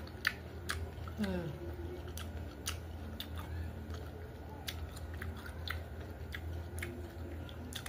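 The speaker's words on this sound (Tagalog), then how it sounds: "So magmukbang na tayo ng ating manggang hilaw." Someone chews unripe green mango topped with crab-fat shrimp paste, making close, crisp crunchy bites and sharp clicks that come at irregular intervals over a low background hum.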